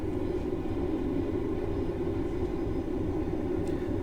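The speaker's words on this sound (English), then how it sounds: "I'm just allowing the train to coast at 30 for now until the next speed change" A Class 156 diesel multiple unit coasts at about 30 on the Lincoln to Newark route in Train Simulator, giving a steady, continuous low rumble of engine and wheels with no voices.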